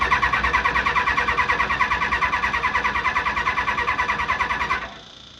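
A Kawasaki ZXR 750 street fighter motorcycle running on low fuel, idling in a fast, steady, lumpy pulse close by before cutting out abruptly near the end, leaving a faint hum.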